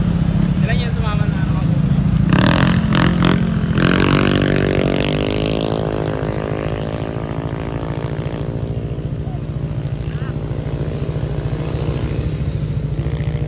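Yamaha Sniper 155 motorcycle passing at a Pangasinan enduro rally, its engine note rising then sweeping down in pitch as it goes by, followed by a lingering idle rumble, with a voice heard early on.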